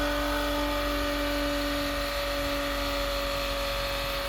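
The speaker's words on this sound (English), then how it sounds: "we'll go ahead and pull it, and we'll start the macerator" An RV black tank macerator pump runs steadily, pushing waste through a 3/4 inch hose about 125 feet to a garage, giving a constant loud motor whir and hum with an unchanging pitch and no speech.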